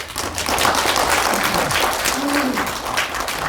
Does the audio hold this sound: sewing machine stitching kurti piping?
no